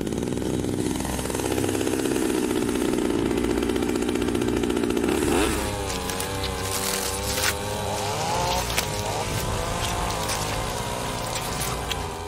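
A chainsaw engine drones steadily, then bites in and bogs down with a grinding, wet, rising and falling whine as it cuts through a T. rex's muscle and thick bone.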